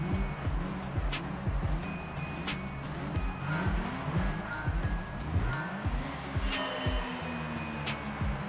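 Mazda Miata race car in Gran Turismo, engine note rising and falling through repeated gear changes with tire squeal, accompanied by other cars and background music, moderately loud throughout.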